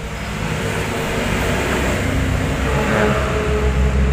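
A Honda Vario 125 scooter with the older ESP engine idles with a steady, loud mechanical drone, its CVT giving a continuous rough rattle, close up with no talk.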